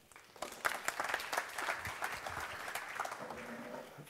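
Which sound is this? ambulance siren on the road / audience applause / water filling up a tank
audience applause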